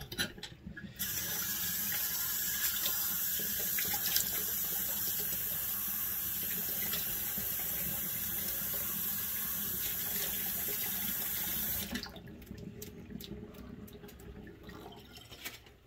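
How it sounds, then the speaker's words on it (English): A sink tap runs in a steady, loud stream for about eleven seconds while a face is rinsed after a traditional wet shave, then shuts off, leaving irregular splashes and drips. "So now we're gonna rinse."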